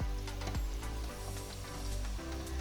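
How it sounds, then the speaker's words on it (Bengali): Malpoa batter frying in hot oil for a Holi dessert, a steady broadband sizzle running throughout with a low hum beneath and a few brief clatters. "এইভাবেই আমি প্রত্যেকটা মালপোয়া ভেজে তুলে নেব।"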